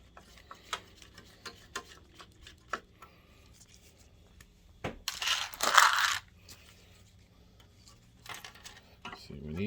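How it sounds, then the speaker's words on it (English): Small screws are worked out of a Viewsonic Pro8500 DLP projector: faint light clicks and ticks of a screwdriver, then a brief louder rattling clatter of metal parts, close and quiet. "let's get these screws out."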